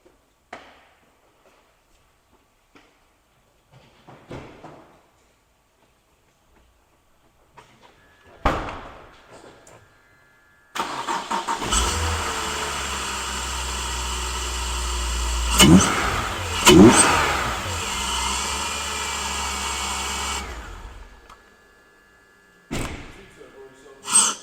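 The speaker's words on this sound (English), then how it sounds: "give the car a quick start and just make sure everything's A-OK." A BMW E46 330ci race car engine starts after a door slam and idles loudly for about ten seconds with two short revs, then shuts off, surrounded by quiet clatter and a few thuds.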